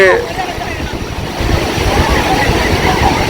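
Sea waves break on an Indian seashore, a steady broadband rush of surf mixed with wind buffeting the microphone, growing louder about halfway through and continuing without a break.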